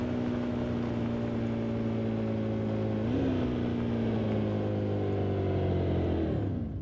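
A Porsche Cayenne Turbo engine in a racing game drones steadily at close range, then the revs dip as the throttle lifts and a downshift follows, with no one speaking.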